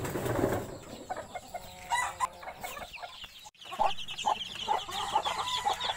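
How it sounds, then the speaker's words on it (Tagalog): Chickens clucking and murmuring close by in a busy backyard flock, with scattered short calls and rustling throughout, no speech. "So, ayan po yung mga nagpisa kong mga manok."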